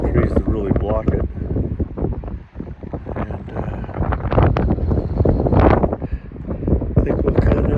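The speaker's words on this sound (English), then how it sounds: "a little windy up here. No trees to really block it." Strong wind buffets the microphone on an exposed, treeless hilltop along a rugged road, a loud continuous rumbling roar with gusts, while a person speaks briefly over it.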